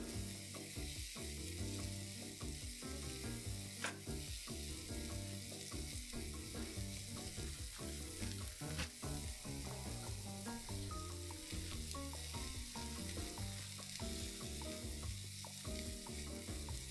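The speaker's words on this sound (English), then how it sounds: "That's now just solely sizzling on the pan's ability to retain heat." Loud, continuous sizzling of food frying in a hot cast iron pan with the flame off, with a few sharper crackles and pops; no voices.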